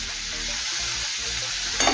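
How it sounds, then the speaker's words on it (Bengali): Vegetables with quartered tomato and turmeric powder sizzle steadily in a pan, a soft continuous frying hiss with a brief stir near the end. "দু থেকে তিন মিনিট সময় নিয়ে ভেজে নেব"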